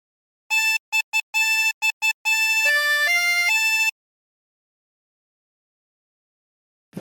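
A harmonica plays the opening phrase of Drunken Sailor alone: a run of short, clean repeated notes, then longer sustained notes stepping downward, ending in silence.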